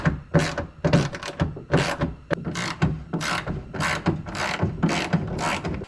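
A ratchet wrench backs out bolts from the door window regulator of a 2004 Dodge Ram 1500 pickup, a close, loud rapid clicking in repeated bursts of roughly half a second each.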